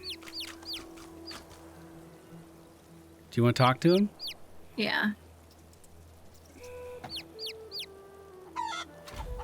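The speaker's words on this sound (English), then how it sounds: "That is one undead looking chicken" An undead-looking chicken in the video game Divinity: Original Sin 2 clucks in a string of quick, bright calls, with people talking over and between them.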